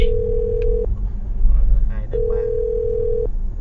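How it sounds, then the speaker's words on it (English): Telephone dial tone from a radio show's call, a steady held tone, a pause with faint background noise and brief voice, then the steady tone again, loud and close. "I'm dialing the phone number now"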